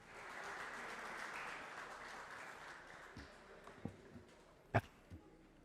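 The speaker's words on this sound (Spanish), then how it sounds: "¿Y a quién fue el aplauso?" A small group of colleagues in a radio and television studio claps in a soft, moderate burst that thins out into a few scattered knocks and clicks toward the end.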